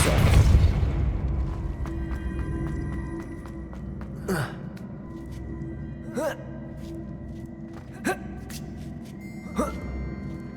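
A Depulso spell is cast in the Hogwarts Legacy video game with a loud close blast that fades into a low hum, followed by several short gasping grunts spaced a couple of seconds apart.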